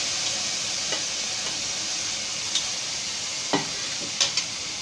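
Fresh tomatoes and chopped green chillies cooking with onions in a pan, a constant sizzle broken by a few sharp scraping stirs and ticks of a utensil, close by with no talking.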